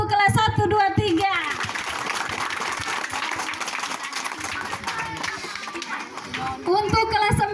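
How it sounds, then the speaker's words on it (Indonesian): A classroom group claps for classes 1, 2 and 3, a sustained burst of applause of many hands lasting several seconds, with speech before and after it. "Beri tepuk tangan untuk kelas 1, 2, 3."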